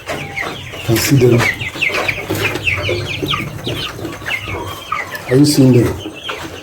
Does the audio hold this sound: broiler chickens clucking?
yes